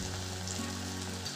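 Onion, tomato, red chilli powder, coriander-cumin powder and turmeric sauté in hot oil for cabbage masala, giving a short, steady, close sizzle with a low hum beneath.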